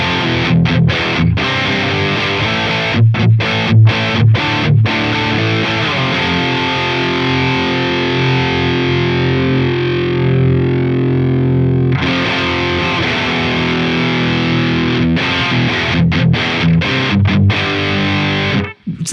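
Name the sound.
electric guitar through Dr. Z MAZ18 Jr amp cranked up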